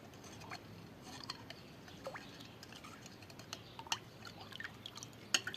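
Charcoal powder is stirred into water to dissolve, giving faint, scattered clinks, drips and small liquid splashes at an irregular pace, close by and fairly quiet.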